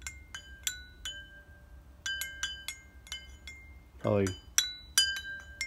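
Wind chime of tin cans and kitchen sink parts, including a salvaged garbage disposal, clinks in scattered bright metallic rings and taps, some ringing on briefly, with a short spoken remark partway through.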